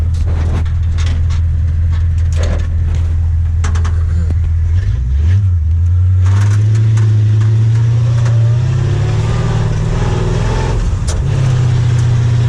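A 1935 Ford car accelerates hard on takeoff, its engine loud and close, revving up steadily in pitch over several seconds with a brief shift midway.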